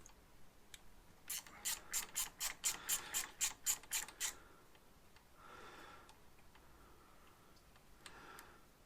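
A ratchet clicks rapidly in a burst of about ten sharp ticks while undoing the oil filter housing cover bolts on a 2016 Honda CRF250L, followed by quieter rustling and faint clicks, with no talking.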